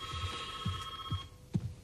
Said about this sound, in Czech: Můžu to zvednout, pořád zvoní, tak co mám dělat?